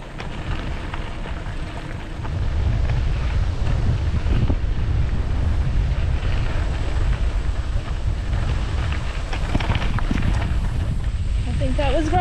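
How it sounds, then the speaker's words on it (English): Strong wind buffets the microphone on the Katy Trail, a loud, continuous rumbling roar that swells after a couple of seconds and stays steady to the end. "Ooh, the wind's getting up."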